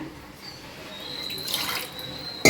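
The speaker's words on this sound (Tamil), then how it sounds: "இப்போ நான் வந்து இந்த குக்கரை மட்டும் கொஞ்சமாக அலசி ஊற்றிக்கிறேன்" Water swishes and pours inside a metal pressure cooker being rinsed, rising to a louder splashing rush before ending with a sharp clank.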